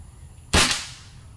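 A single sharp shot from a toy gun fitted with a new barrel cracks loud and close, then quickly fades out of a quiet background.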